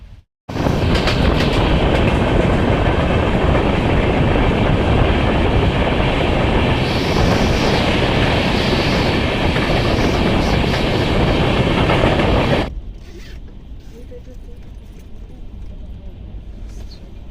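The 13005 Howrah Amritsar Mail runs at night with a loud, steady rumble and rhythmic clickety-clack of wheels on rails, then cuts abruptly to a much quieter background near the end.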